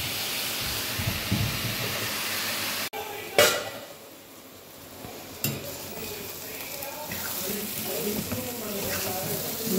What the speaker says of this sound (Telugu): ఇట్లా తాలింపు చేసేసుకొని మనము ఇక మూత పెట్టి కొంచెం సేపు వేగనిస్తాము